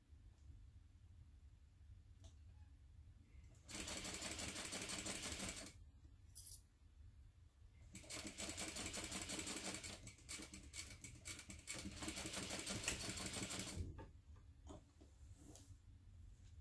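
Sewing machine stitching fabric for an envelope wallet, a few short runs of fast, faint mechanical stitching patter separated by quieter pauses and single clicks.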